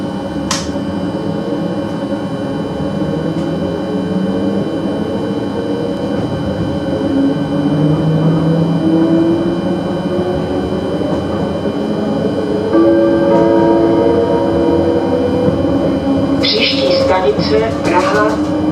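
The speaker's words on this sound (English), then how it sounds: "This is a more modern train and has a nice sounding VF drive." A modern double-deck electric train with a variable-frequency drive runs steadily near Prague, Czech Republic, with a constant rumble, and a tonal electric whine rises and shifts in pitch as it moves.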